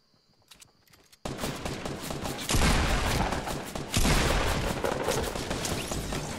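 Shotgun fire and dense gunfire in the Fortnite battle royale video game: a few quiet shots give way to a loud, sustained barrage of overlapping blasts with heavy booms.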